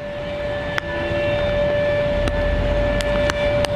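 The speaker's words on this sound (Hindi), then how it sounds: "ये सायरन खतरे का सायरन होता है कि हट जाइए, पानी की आवक बढ़ने वाली है" A steady dam warning siren wails in the distance at Kota Barrage, warning of rising water releases, over constant rushing background noise, with a few sharp clicks scattered throughout.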